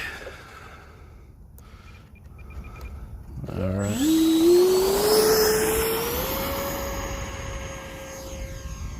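A small RC jet plane with landing gear and flaps powers up and takes off from a runway, its turbine rising from a low rumble into a loud, steady whine that climbs in pitch and holds as the aircraft moves off.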